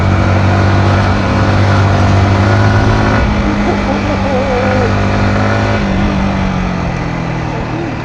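A damaged Yamaha MT-15 motorcycle engine runs loud and close with a steady, droning rumble throughout, while people talk over it.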